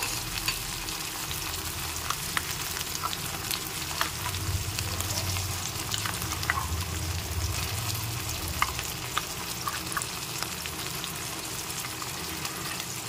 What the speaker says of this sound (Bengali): এখন একটু নেড়ে চেড়ে ভালো করে ভেজে নিতে হবে। আর এর মধ্যে এখনই মিশিয়ে দিচ্ছি লাউ খোসা বাটা।